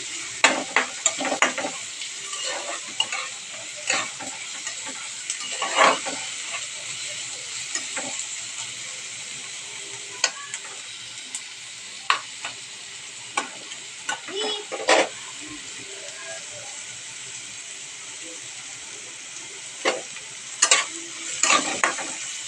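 Onion, tomato and chili frying in a pan, a continuous sizzle broken by frequent sharp scrapes and clinks of a spoon stirring, close and fairly loud throughout.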